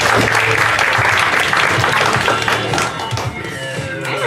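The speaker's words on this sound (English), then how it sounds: "Give yourselves a round of applause." Audience applause for the host taking the stage at a Sunday stand-up comedy class showcase, a steady dense clapping crowd throughout, loud and close, easing slightly toward the end.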